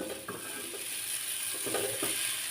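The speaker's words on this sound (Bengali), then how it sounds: "এভাবে ঝেঁকে ঝেঁকে রান্না করলে আপনার লুডুসটা ঝরঝরে হবে" Steady sizzling of noodles being stir-fried and tossed in hot cooking oil, hotel style, with a few short scraping and clinking stirs against the pan. The cooking is heard close and alone, with no talking.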